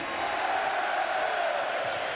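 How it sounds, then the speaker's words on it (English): A stadium crowd at the 1992 UEFA Cup Final second leg, Ajax against Torino, giving a steady, broad cheer as a substitute comes on, distant and sustained without breaks. "certainly has his fans in the crowd, judging by the welcome"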